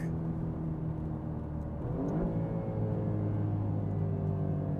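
A 2018 Alfa Romeo Giulia Quadrifoglio accelerates hard, its engine note climbing steadily and dropping at a quick gearshift midway before rising again. The cabin engine sound stays loud and continuous, with no talking.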